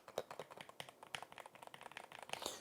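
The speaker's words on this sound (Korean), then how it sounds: "세우고 귀에다 대 키보드를 쳐봐요." Keys tapped quickly on a Corsair MAKR PRO 75 magnetic keyboard held upright against the ear, giving a close, quiet run of muted clacks in an irregular rhythm.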